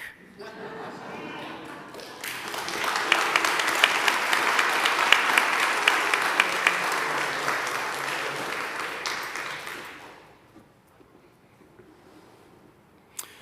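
An audience at an annual meeting breaks into loud applause for award recipients after a quiet start, clapping steadily for several seconds before it fades to near silence.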